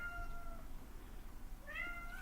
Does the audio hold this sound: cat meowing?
yes